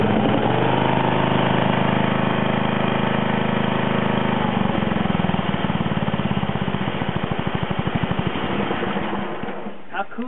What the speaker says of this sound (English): I got my John Deere 111 going.